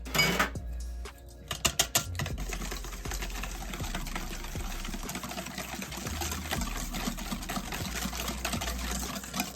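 Egg and Worcestershire sauce whisked with Old Bay into a crab cake mixture, a fast steady run of light clicking and tapping that carries on without pause throughout.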